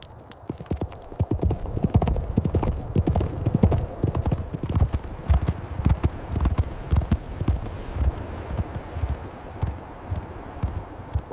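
A horse being ridden clip-clops along in a quick, steady rhythm of close, crisp hoof strikes that continue throughout, with an occasional faint snort and no talking.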